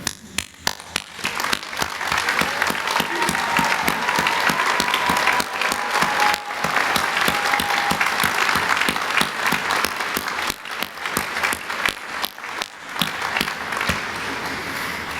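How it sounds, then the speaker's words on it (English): A University of Waikato graduation ceremony audience applauds for about fifteen seconds, a dense and sustained wash of many hands clapping that stays loud and even, briefly thinning near the end. "I really want you to stand up and applaud those who have helped you to go through university"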